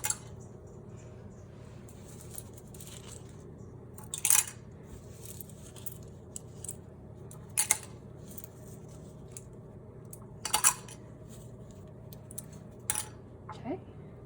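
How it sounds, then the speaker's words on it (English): Dirty copper pennies dropped one at a time into a vinegar solution, producing several sharp, faint metallic clinks spaced a few seconds apart against a quiet room. "Now we're going to place our dirty pennies into the vinegar solution."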